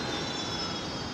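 A Jetstar A320 Classic on approach to runway 01 right at Brisbane Airport, heard as a faint, steady distant jet roar with no voices.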